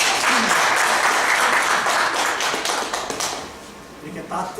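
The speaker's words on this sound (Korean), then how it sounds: "박수 한번 주십시오" Audience clapping in a university lecture hall during a Korean teaching-methods seminar, a dense burst that gradually thins out with some light tapping and faint voices near the end.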